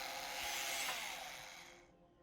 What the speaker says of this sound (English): Drill that lock.